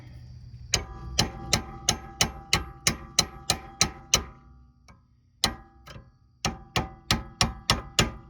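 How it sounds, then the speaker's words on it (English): Sharp metallic hammer strikes knocking a rear hub loose on a 2003-07 Honda Accord ring out in a fast, steady series, a short pause, then another run of quick clanking blows. "take your hammer,"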